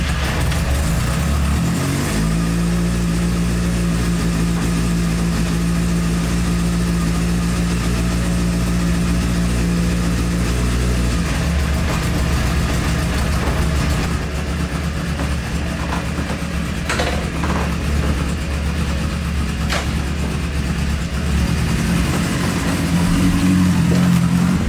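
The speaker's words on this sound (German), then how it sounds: "wir machen jetzt erstmal das Fahrzeug an. Kann schon mal ein bisschen warm laufen." A Honda CB 600 F Hornet motorcycle engine runs close by, idling with a steady low hum that shifts pitch as it warms, with a few revs near the end.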